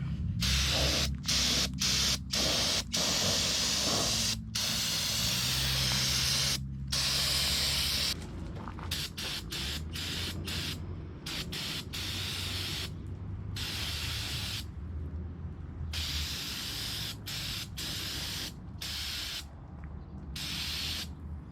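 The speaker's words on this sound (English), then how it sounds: "now I'm gonna take that cover off the oil cooler and just hose her down" A water hose sprays down the oil cooler of a 6.0 Powerstroke diesel engine, a loud, close hiss of water that starts and stops in repeated short bursts with brief quiet gaps, no talking.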